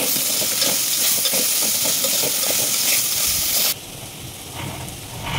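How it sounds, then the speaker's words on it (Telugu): Soya chunks tipped into a hot pan and stirred while cooking biryani, with a steady loud sizzle and hiss that drops abruptly partway through to a quieter frying simmer. "ఈ సోయా వేసేసుకోవాలండి. వేసేసుకొని కలుపుకోవాలి."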